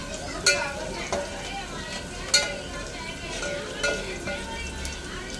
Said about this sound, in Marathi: थोडंसं लसूण लाल झाला की आपण ही डाळ त्याच्यामध्ये ऍड करूया